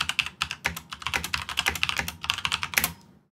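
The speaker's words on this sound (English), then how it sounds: "Let's do the keyboard type test." Rapid, uneven clacking of keystrokes on a Logitech G Pro X mechanical keyboard, close and crisp, running steadily for about three seconds before stopping abruptly.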